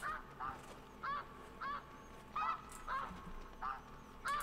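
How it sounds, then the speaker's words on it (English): Geese in the hunting game theHunter: Classic honk in a repeated series of nasal calls, about eight honks at uneven intervals over a quiet background, moderately distant. "Oh, it's the geese."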